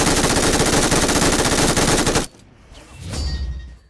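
Rapid automatic gunfire in PUBG Mobile, a loud dense burst lasting about two seconds, then a sharp cutoff into quieter game ambience with a rising whoosh.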